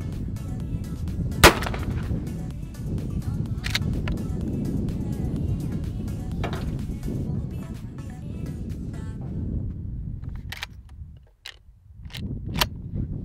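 Several shotgun blasts from an Adler A110 lever-action, fired outdoors with choke and pellet loads being compared, ring out as sharp cracks spread across a steady background hum, with a few more closely spaced shots near the end.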